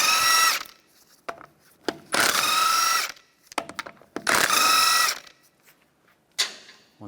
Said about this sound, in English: remove the wheel, use a 17mm socket, take the lug bolts out